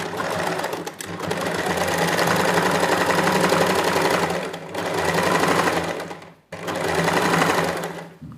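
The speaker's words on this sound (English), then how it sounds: "Right now, let's go to our sewing machine." A sewing machine runs a 1/8 inch seam along a lined neckline, whirring steadily in three long bursts separated by brief pauses, close and loud, with no talking.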